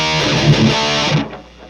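An electric guitar plays through a modeling amp set to voicing 4 in pentode, class AB mode, giving a loud, dense, distorted sustained chord that rings for over a second before cutting and decaying.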